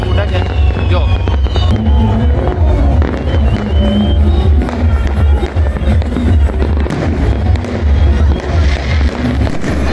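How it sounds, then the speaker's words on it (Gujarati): Firecrackers burst nearby on an Uttarayan night in Vadodara, a loud continuous barrage of crackling pops and bangs over a steady rumble, with a crowd and voices faintly in the background. "અમે આજુબાજુમાં બી મસ્ત ફટાકડા ફૂટા છે."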